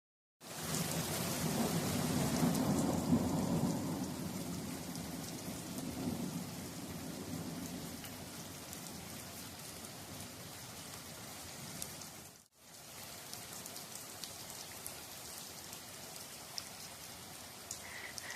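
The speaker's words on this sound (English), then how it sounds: "So Thursday night, we were treated to a wonderful thunderstorm" A thunderstorm brings steady heavy rain, with a rolling rumble of thunder early on that fades into a constant hiss of rain on surfaces, then a short dropout before the downpour resumes, and no talking.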